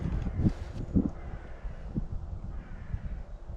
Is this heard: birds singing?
yes